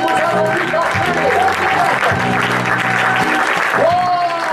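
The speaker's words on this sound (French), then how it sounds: "applaudissez Jésus" A church congregation claps for Jesus during a worship song on grace: sustained, vigorous applause throughout, with sung or spoken voices and music running beneath the clapping.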